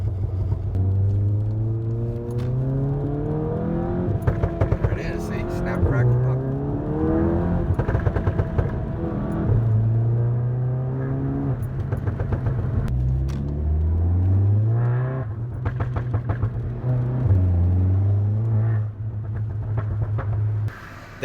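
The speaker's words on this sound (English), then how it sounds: "definitely the burbles are back" A Volkswagen Golf GTI MK7 with a Performance Pro 1 catback exhaust idles loudly up close, its engine revving up and settling repeatedly, with deep burbles and crackling pops on the overrun between rises in pitch.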